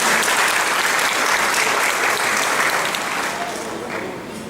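An audience at a seminar on municipal councils and funds for the elderly applauds an incoming speaker with dense, even clapping that holds loud and slowly fades toward the end, voices faintly beneath.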